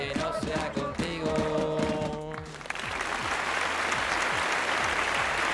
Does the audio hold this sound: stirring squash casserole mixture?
no